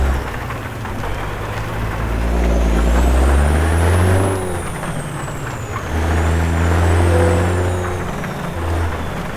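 In a trucking video game, a heavy truck engine rumbles and revs up and down while a high whining tone sweeps across, with a hiss like air brakes, loud and close throughout.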